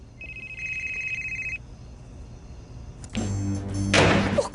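A telephone gives a short, steady electronic ring that goes unanswered, then louder rustling and clattering noise takes over; no one speaks.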